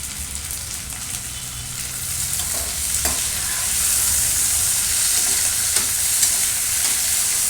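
Tomatoes cook and get stirred in a pan of veg dum biryani, with a steady, close sizzle and scraping stir strokes that build slightly louder partway through.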